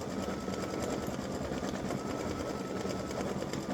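An embroidery machine stitches an in-the-hoop mug rug, its fast, even mechanical whir running steadily and moderately loud with no pauses.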